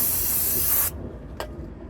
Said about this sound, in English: Get some brake and caliper, brake and clutch cleaner.